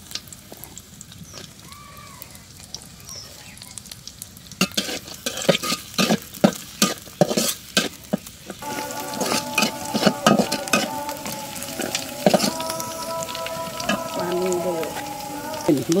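Garlic, green chilies and chopped onion fry in a pan, a steady sizzle broken by bursts of stirring scrapes and clatter that grow louder midway, with a voice talking over parts of it.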